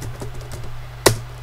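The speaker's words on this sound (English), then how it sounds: "go to a terminal, open that one up, Ctrl+Alt+T to open up a terminal, and type in sudo apt-get install" Keys on a computer keyboard tapped while entering a Linux terminal command: a few soft taps followed by one sharp, close keystroke.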